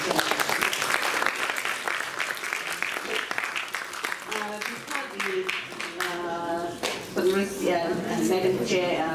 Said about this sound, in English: outstanding applause.